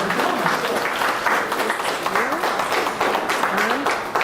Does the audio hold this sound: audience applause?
yes